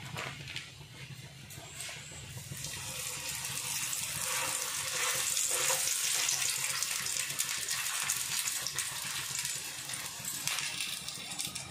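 Chicken keema paratha frying slowly over a low flame in oil on a pan, heard as a broad, steady sizzling hiss that swells gradually and stays fairly close.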